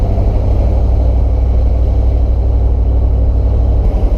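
A Ford Dentside pickup with a big block engine rolling through a curve at low speed, a steady loud low rumble from inside the cab with no break, easing off slightly at the end.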